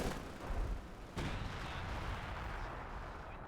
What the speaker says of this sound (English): the Lef 18 barrage looks to have been fired around here